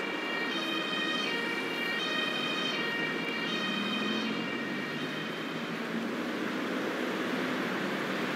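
An ambulance siren in the Emergency 5 rescue-simulation game wails in a repeating rising-and-falling cycle, loud and steady over a constant background rumble with no talking.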